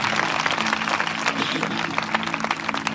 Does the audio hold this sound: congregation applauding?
yes